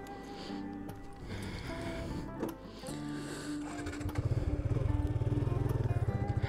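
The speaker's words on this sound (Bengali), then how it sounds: "চলুন বাইকটা একটু রাইড করি" A Suzuki Gixxer Monotone motorcycle being ridden: a steady engine hum that grows louder and rougher near the end with a fast pulsing throb, recorded close up.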